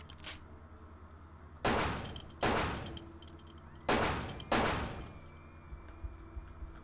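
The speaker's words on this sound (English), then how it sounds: "Let's try and shoot it then." Four heavy, booming gunshots ring out in the video game Vampire: The Masquerade – Bloodlines, fired in two pairs about two seconds apart, each with a decaying tail, loud and close with no talking.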